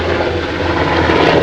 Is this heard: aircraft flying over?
yes